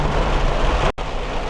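Heavy rain hammers a moving vehicle during a thunderstorm, a loud, dense, steady roar with a brief sudden dropout near the middle.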